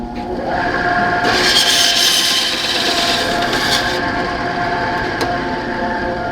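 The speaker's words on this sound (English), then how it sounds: "Let's see if my skill bandsaw will go ahead and cut these up." Skil bandsaw cutting large-pour epoxy resin blanks, a steady motor whine overlaid by harsh grinding and rasping as the blade bites in and stays loud before easing off.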